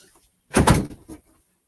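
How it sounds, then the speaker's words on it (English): An indoor room door being shut, one short close thump with a brief rattle right after it, then quiet. "Let me shut my door so I don't have to hear all that."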